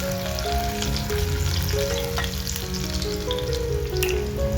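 Garlic sautés in oil in a pan for a village-style vegetable dish, making a steady, close frying sizzle with soft stirring and light scraping of a utensil throughout, and nobody speaking.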